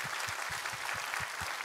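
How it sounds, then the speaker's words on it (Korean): A church congregation claps during a Sunday worship service, a dense wash of many hands with a faint regular beat underneath, steady and unbroken. "우리 하나님께 감사와 영광의 박수 올려드리도록 하겠습니다"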